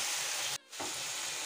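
Tomatoes and spinach for a palak and corn sabzi sizzle steadily as they are stir-fried in a pan, a continuous broadband frying hiss broken by one brief gap before resuming, with no talking.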